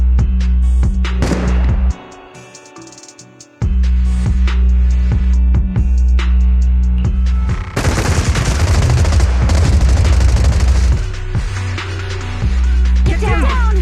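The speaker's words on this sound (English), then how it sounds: "Gunfire? This pattern. Suppressive marching fire." Suppressive marching gunfire in the video game Zenless Zone Zero: dense bursts of rapid automatic fire crackle loudly, with a brief lull before a heavier barrage swells late, over game music and a low hum.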